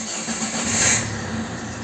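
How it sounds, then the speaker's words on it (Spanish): An Opel Vectra C engine starting up close by, a short crank turning into a rising, steady run with a continuous high whine above it. "si nosotros arrancamos el vehículo"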